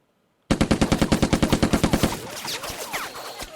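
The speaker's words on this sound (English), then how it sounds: "Now, he's got a machine gun there." A machine gun in the Lock 'n Load Tactical video game fires a fast, even burst of about eighteen loud, close shots, and the echoes ring out and fade after it stops.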